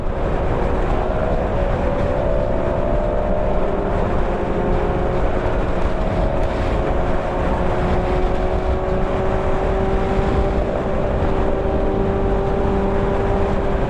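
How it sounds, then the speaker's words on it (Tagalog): Steady, loud wind roar buffets continuously against a droning Kawasaki Ninja motorcycle engine on an expressway, with no break. "Oh, malakas ang hangin ah."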